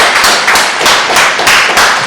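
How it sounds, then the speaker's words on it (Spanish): Studio audience in a TV interview set clapping together, a dense continuous wash of applause that swells in a few pulses, close and loud, with no talking. "Regálame otro fuerte aplauso,"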